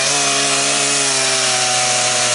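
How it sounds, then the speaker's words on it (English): A chainsaw cuts into a white ash log at a sawmill, its engine a loud, steady, sustained whine at close range with no talk over it. "we'll come back when we have the chainsaw ready to cut"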